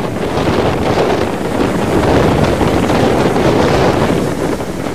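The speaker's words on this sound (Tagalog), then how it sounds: "Naglalakihan ng mga alon sa Baclayon, Bohol habang dumadaan ang Super Typhoon Yolanda malapit sa hilagang bahagi ng lalawigan." Strong wind roars into the microphone as large waves surge at Baclayon, Bohol, during Super Typhoon Yolanda, a loud, steady wash of noise without a break or any voices.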